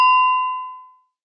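A single bright bell ding marks the end of a timed cold reading, a clear chime that rings out and fades within about a second.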